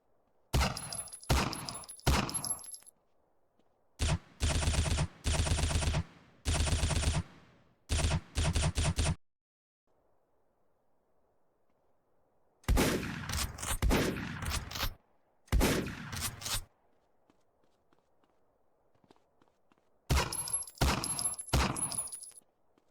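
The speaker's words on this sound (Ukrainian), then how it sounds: "просто послухайте ці постріли, стрільби, як вони звучать" Bursts of rapid gunfire in a GTA roleplay game, loud sharp volleys in clusters separated by short silences.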